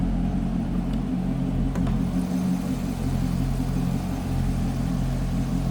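Steady low engine rumble from a 2012 Chevrolet Corvette Grand Sport 4LT convertible with the 6.2-liter V8, idling evenly and loud up close with no variation in pace.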